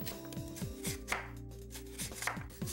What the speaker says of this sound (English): First, cut up the Daikon radish into about half an inch thickness